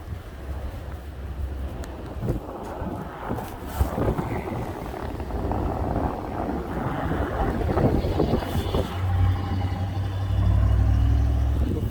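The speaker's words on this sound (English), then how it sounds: "Oh my God, it's crazy. So windy." Strong blizzard wind roaring and buffeting the microphone, loud and continuous with gusts swelling toward the end, low rumbling underneath.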